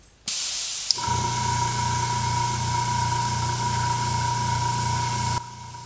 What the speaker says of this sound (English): So I'm gonna put this in my airbrush. And this is thinned with denatured alcohol.